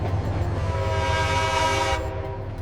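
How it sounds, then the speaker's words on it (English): A loud, sustained train whistle blowing with steady harmonic tones, cutting off near the end over rumbling rail noise. "And every time the train whistle blew"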